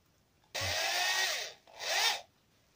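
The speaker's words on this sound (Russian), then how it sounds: "Сейчас маленьким сверлом пока." Small drill bit boring into material while fitting an unusual bicycle rack mount, two loud close bursts of high, gritty whirring cutting with a brief pause between them, no talk.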